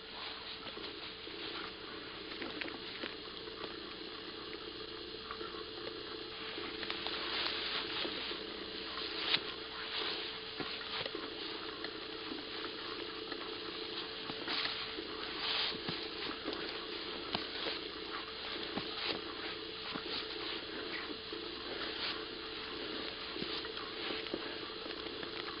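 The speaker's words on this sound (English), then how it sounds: "It is raining a little bit" Light rain falling outdoors around a 1993 Honda FourTrax ATV, a steady soft patter and hiss of drops spread evenly through the whole stretch with no voices.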